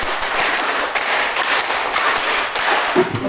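Students in a classroom clap a counted rhythm twice over, a loud dense clatter of many hands with a few sharper accents standing out across several seconds.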